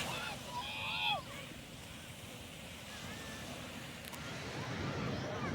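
Waves washing onto Hulhumale 2 beach in the Maldives, a steady broad rush mixed with wind noise, with faint bird chirps above it.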